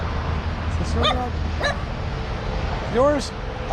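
Small truck stop dog at a visitor center giving a few high yips and whimpers, rising and falling whines, close by over a steady outdoor background hum.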